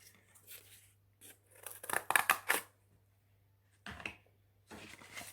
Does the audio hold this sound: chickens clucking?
no